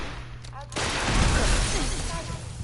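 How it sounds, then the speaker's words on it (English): An enemy fires a missile launcher in the video game Fallout 4. A sudden loud explosive blast erupts partway through and rumbles on as sustained roaring debris noise after a quieter lead-in. "One of them has a missile launcher"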